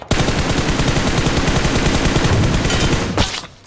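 Rapid automatic gunfire in the PUBG Mobile battle royale game, a loud sustained burst of closely spaced shots rattling for about three seconds before stopping abruptly.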